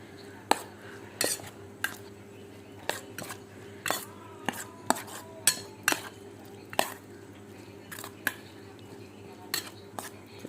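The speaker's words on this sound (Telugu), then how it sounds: "ఇది మామూలుగా ఇదిగోండి స్పూన్ పెట్టి కలిపేసుకోవాలి" A spoon stirs a yogurt mixture in a bowl, giving a quiet, steady run of irregular clinks and taps of metal against the bowl's side, spaced through the stretch.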